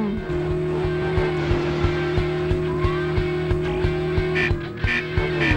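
The flying car Professor Frink drives in The Simpsons Road Rage keeps up a steady engine drone with a rhythmic pulsing, and a few brief squeaky bursts can be heard near the end.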